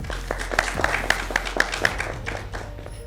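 A mushaira audience claps for the poet at an Easter poetry gathering, a thin scatter of hand claps with a few sharper individual claps, moderately distant and fairly quiet, while a host's voice carries over it.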